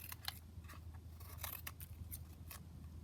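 Scissors snip through paper pocket corners in a quiet, close series of sharp, irregular cuts, about a dozen crisp snips spread over a few seconds with no talking.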